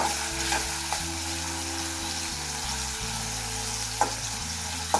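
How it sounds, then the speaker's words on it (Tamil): Food frying in oil in a pan for Sri Lankan fried rice, a steady close sizzle with occasional stirring scrapes and a couple of sharp clicks, no talking. "ஓகே, இது பொரியட்டும். கொஞ்சம் கொஞ்சமாக தான் பொரிக்கலாம்."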